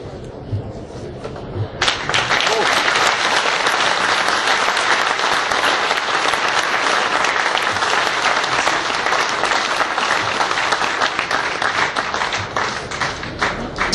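Sustained applause from an audience at the inauguration of the Alpagel facility, a dense wash of many hands clapping that starts after a brief quiet moment and stays loud and steady.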